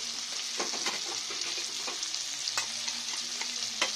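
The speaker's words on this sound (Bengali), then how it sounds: "যত টমেটোটা না গলবে ততক্ষণ আমি ভেজে যাব" Tomatoes fry in a pan with a steady close sizzle, broken by repeated scraping strokes of a spatula stirring them.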